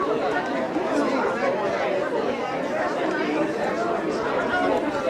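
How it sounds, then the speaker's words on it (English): Steady murmur of a milling crowd chattering at a Temple Sholom celebration, many overlapping voices blending into a continuous, fairly loud hubbub with no single speaker standing out. "Oh yeah, I want to get the milling crowd."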